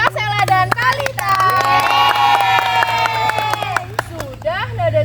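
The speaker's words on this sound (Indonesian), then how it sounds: "Beri tepuk tangan buat Kak Sela dan Kalita." Audience applause and cheering for students at a high school class presentation, a steady crowd of clapping with shouts lasting throughout, fairly loud and close, with voices mixed in.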